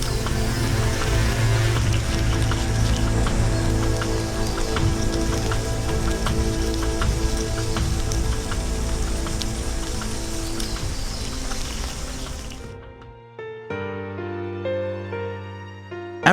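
Rain pours down in a forest as a dense, steady patter of drops, loud and close, with music underneath; after about thirteen seconds the rain stops and only the music continues.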